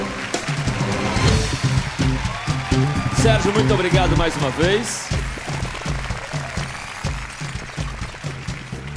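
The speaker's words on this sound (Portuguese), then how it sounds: "Recebam com uma salva de palmas, Dr. Sérgio Rizola" A TV studio audience on a Brazilian variety show applauds guest Dr. Sérgio Rizola with loud, dense clapping and some cheering, then the applause thins into scattered claps as a host speaks over it.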